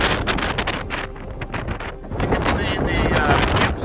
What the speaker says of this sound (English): These wind gusts are really, really rough.